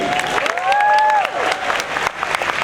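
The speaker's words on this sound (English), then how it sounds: "Keep that applause going for Mimi!" An audience at Disney's Hollywood Studios Indiana Jones show applauding and cheering loudly, steady clapping throughout with a brief whistle-like tone rising over the noise.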